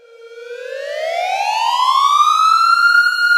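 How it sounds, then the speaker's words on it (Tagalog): A rising wail from a fire truck siren, sweeping upward in pitch and growing steadily louder and closer over a few seconds, heard alone without voices. "Nakakita ng fire truck"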